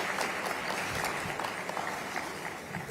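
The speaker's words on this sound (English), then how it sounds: "they deserve a big round of applause" Steady applause from a crowd at a university commencement ceremony, a dense continuous patter of clapping, fairly distant and even in level.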